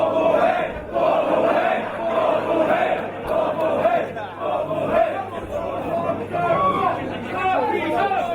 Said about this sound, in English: Crowd clearly not in any way on Devlin's side here. Very much pro Bodom.